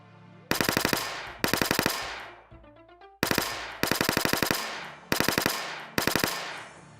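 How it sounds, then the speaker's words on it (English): Repeated bursts of automatic gunfire from a gun in Zomclave, a zombie game built in Godot, rattle out in rapid volleys separated by short pauses, loud and close, with a brief rising electronic tone between the first bursts. "the gun sound is still the same"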